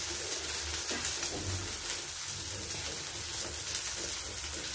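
Eggs frying in a pan for an omelette: a steady close sizzle with faint crackling throughout, with no talking.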